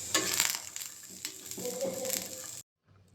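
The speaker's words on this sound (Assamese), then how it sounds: "তাৰপিছতে বাদামকেইটা দি দিলোঁ, এয়াও ধুনীয়াকৈ ভাজি লওঁ।" Peanuts frying in a pan for an Assamese peanut chutney, a steady close sizzle with stirring scrapes that cuts off abruptly near the end.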